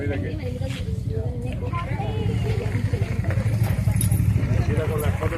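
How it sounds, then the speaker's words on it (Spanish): A police motorcycle pulls in on a street, its engine a low rumble beneath close, steady conversation, with some metallic jangling mixed in. "justo ahora mismo acaba de entrar una moto de policía"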